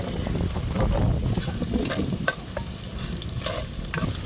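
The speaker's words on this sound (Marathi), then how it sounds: "मोहरी टाकून घेऊ आता एक चमचे जिरं टाकायचं आता थोडा कांदा टाकून" Onion frying in hot oil with mustard seeds and cumin in a pan, a steady close sizzle with stirring scrapes, no voices.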